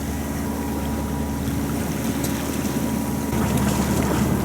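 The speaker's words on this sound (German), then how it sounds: "Und darum sind wir wiederum mit dem Motor unterwegs." Steady droning of a motorboat engine under wind buffeting and the wash of water, continuous throughout, along the Croatian coast.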